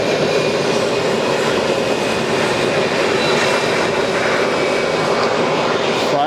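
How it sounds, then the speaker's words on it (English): An Airbus airliner arrives at Atlanta airport with a steady, loud, broadband jet roar that holds constant throughout. "I bet you anything this Airbus came in from Chicago"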